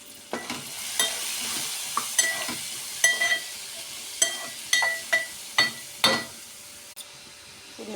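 Capsicum frying in a pan with turmeric, a steady sizzle broken by repeated sharp clinks and scrapes of a spoon stirring against the metal, close and fairly loud, no talking.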